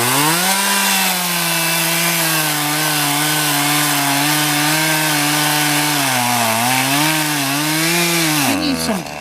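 A chainsaw cuts through wood up close, its loud buzzing engine droning steadily with slight pitch dips as the blade bites, then winding down abruptly at the end.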